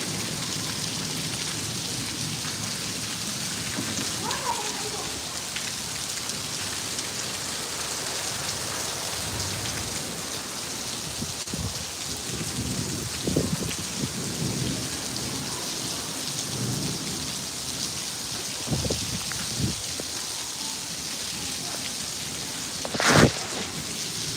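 A long stretch of heavy rain falls continuously, loud and dense, with occasional heavier bursts and a sharp crack near the end.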